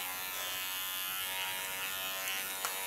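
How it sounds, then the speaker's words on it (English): An electric hair clipper cuts a man's hair over a comb, giving a steady close buzz with a faint snip of cutting near the end. "Starting with clipper over comb."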